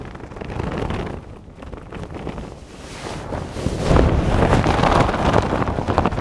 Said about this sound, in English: I know the wind is again massively off the left-hand side.